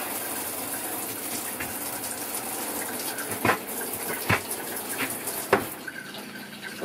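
Liquid runs steadily through an RV shower during winterizing, a continuous close rushing hiss with a few short knocks and clunks near the end.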